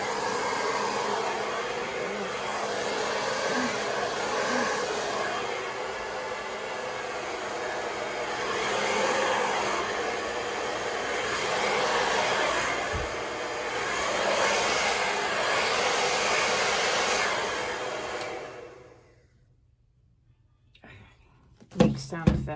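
A hair dryer blows steadily on wet acrylic paint in a Dutch pour, a loud continuous whooshing roar lasting most of the time with slight swells, then cutting off abruptly into near silence.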